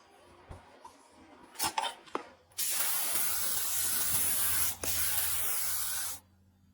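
A spray gun applies anti-corrosion paint to a KAMAZ military truck under restoration, with a few clinks and short bursts first, then a loud, steady hiss that stops briefly once and resumes before cutting off.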